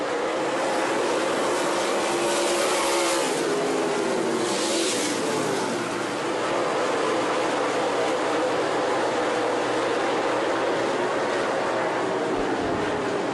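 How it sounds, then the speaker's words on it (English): Loud, continuous roar of dirt track race car engines at close range, with broadband rumble and shifting revs as several cars pass coming off turn 4, filling the whole stretch without pause. "Watch again as Gustin brings the field off of turn 4, pulling away now."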